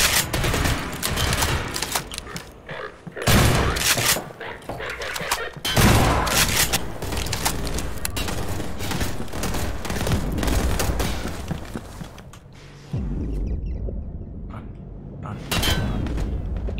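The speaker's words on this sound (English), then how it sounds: "He's shooting at me" Enemy gunfire in the Half-Life 2 campaign played in Garry's Mod: sustained bursts of rapid shots and fusillades with occasional booms, loud and close, continuing almost without pause.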